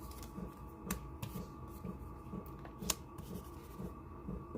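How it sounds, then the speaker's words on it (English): A heater in a backyard craft shed gives off faint, sporadic clicks and ticks over a low steady hum, quiet and somewhat distant. "if you hear that clicking in the background, that's my heater."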